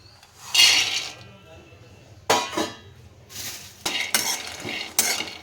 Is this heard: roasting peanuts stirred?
yes